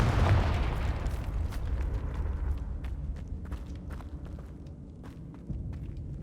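A Confringo spell explodes in Hogwarts Legacy, a booming blast that fades into a rumbling tail of scattered crackles and debris over several seconds, with no talk.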